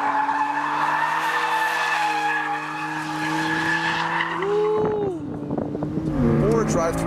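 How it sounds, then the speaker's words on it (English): A 2015 BMW M3 drifts with long, loud squealing tyres and an engine note running under it, the squeal rising and wavering toward the end, with a voice talking over it. "you can very much control the line of the car and do some pretty big smoky drifts"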